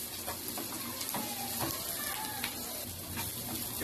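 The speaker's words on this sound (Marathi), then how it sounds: "आता बघू शकता ही मस्त फ्राय झाली कांदा आणि मिरची" Onion and green chilli frying in oil in a pan, a faint steady sizzle with scattered stirring clicks underneath, quiet and close, no talk.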